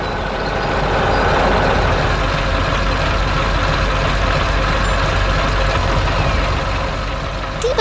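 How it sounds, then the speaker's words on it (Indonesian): A yellow truck hauling logs runs steadily nearby, a constant broad engine rumble and hiss that stays loud and even throughout, with no talk. "Truk berwarna kuning sedang membawa log kayu ke tempat yang sangat cocok."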